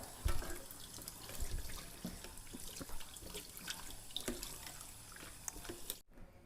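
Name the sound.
blanched water spinach being rinsed in cold water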